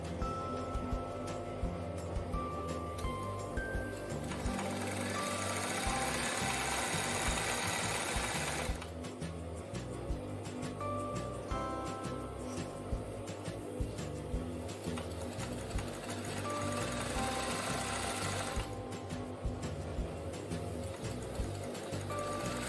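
Sewing machine running continuously while stitching a flat satin embroidery stitch, its width widened by pressing the knee lever; steady, close mechanical whirring with rapid needle rhythm, briefly easing around two points before resuming.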